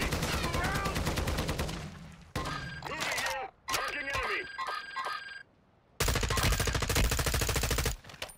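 Rapid automatic gunfire rattles in long bursts during an online shooter match, sharp repeated shots broken by brief pauses, with players talking over the action.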